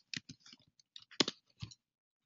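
Quiet, sparse key taps on a computer keyboard while entering a macro shortcut in a support app, a handful of separate clicks in an uneven rhythm against near silence.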